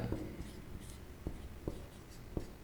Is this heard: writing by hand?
yes